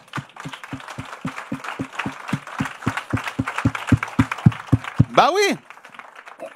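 An audience claps in steady unison at a religious teaching session, regular loud beats under a voice, ending with a brief shout.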